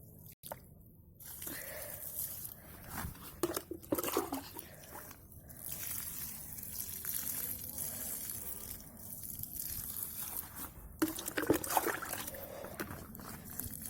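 Water poured from a bucket onto onion plants in a garden bed, making soft, uneven splashing and soaking sounds that come and go in bursts, close by and fairly quiet.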